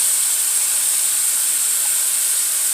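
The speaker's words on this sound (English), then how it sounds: "I hope you can hear me over this sizzle, because it is loud." Tofu bacon strips sizzling loudly in an oiled pan, a steady, dense frying hiss that fills the clip from start to finish with no pauses and no talk over it.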